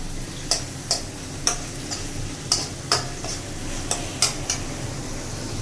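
Ingredients poured into a hot pan in a home kitchen cooking session, with a steady frying sizzle and repeated sharp clinks of a utensil against the pan, close and fairly loud.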